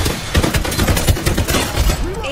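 Rapid bursts of gunfire in the PC battle game Farlight 84, loud and continuous with dense overlapping shots, close and busy throughout.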